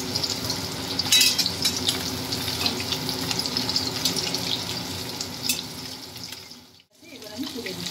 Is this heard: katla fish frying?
yes